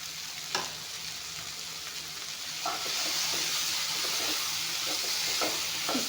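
Beans fry in a pan with a steady loud sizzle and hiss, joined by intermittent scraping stir strokes that grow busier partway through, with no talking.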